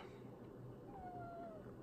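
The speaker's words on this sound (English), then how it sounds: "Cat says hello, everybody." A cat meows once, a faint rising-then-falling call near the middle, set under a steady background hiss in a quiet room.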